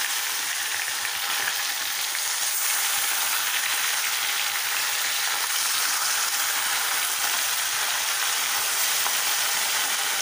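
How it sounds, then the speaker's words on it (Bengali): Bahu fish fries in hot oil in a wok, a loud, dense, continuous sizzle that holds steady throughout with no talking. "কড়াইয়ের তেলটা গরম হয়ে গেছে, আমি একে একে করে মাছটাকে ভেজে নিচ্ছি।"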